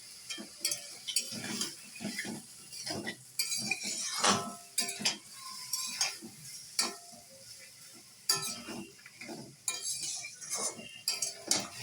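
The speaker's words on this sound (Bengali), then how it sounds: "তো আমি ভালো করে হলুদ আর লঙ্কা গুঁড়োটাকে মিক্স করে দিয়েছি" Spatula scraping and clinking in a pan as turmeric and chili powder are stirred into broccoli for a broccoli and potato curry, with repeated irregular metallic scrapes and taps at close range, no talking.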